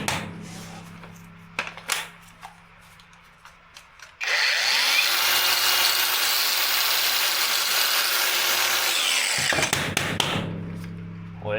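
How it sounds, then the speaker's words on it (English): A T-move grinder on a 1971 Chevrolet C10 runs stuck wide open, a loud sustained whine that begins abruptly after some clanking and cuts off sharply near the end. "T-move grinder got stuck wide open."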